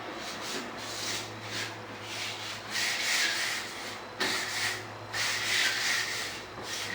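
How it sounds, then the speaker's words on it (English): Hand sanding on a stained fiberglass door: steady back-and-forth rubbing strokes, close and fairly loud, in a continuous rhythm with brief pauses between passes. "when I'm sanding here, I don't really feel a lot that's coming off"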